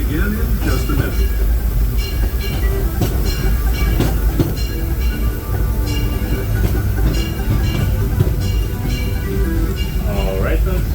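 The Disneyland Railroad's Holiday 5 Blue train rolls along in the rain with a steady rumble and rhythmic wheel clicks, heard loud and close from aboard, with voices talking over it.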